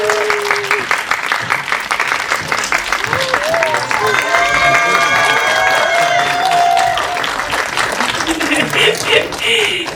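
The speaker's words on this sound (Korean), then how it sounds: "큰 박수 부탁드립니다" Theater audience at an opening-day film screening Q&A gives a big round of applause as director and actors take their seats; loud dense clapping with scattered cheers and voices mixed in throughout.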